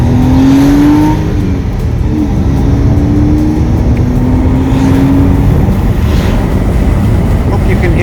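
A 2001 Porsche 986 Boxster Gemballa Avalanche custom accelerates from a takeoff. Its engine note rises, drops at a gear change, then climbs again, heard from on board under heavy wind rush.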